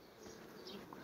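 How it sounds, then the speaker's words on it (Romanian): Honeybees buzzing around a nucleus hive in late May, a steady close insect drone filling the short moment with no talk. "Să mă pun eu așa, să vină albinuțele."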